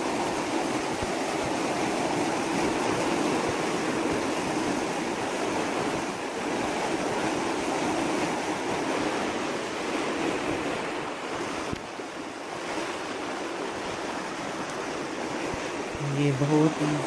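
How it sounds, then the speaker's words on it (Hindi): Water rushing out fast after a gate is loosened at a park in Watford, England: a loud, continuous roar of churning flow with wind noise on the microphone, steady throughout. "हमने डोर को थोड़ा सा लूज़ किया है तो पानी आपको नज़र आ रहा है, इतना तेज़ी से आगे आ रहा है।"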